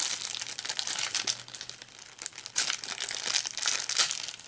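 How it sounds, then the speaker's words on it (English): Paper mail packaging is crinkled and torn open by hand, a close, continuous crackling and ripping that runs for a few seconds with no talking. "I have to rip up the whole thing to open it"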